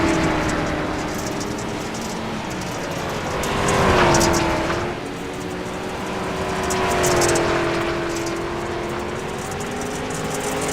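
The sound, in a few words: race cars racing on track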